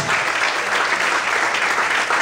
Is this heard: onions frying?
no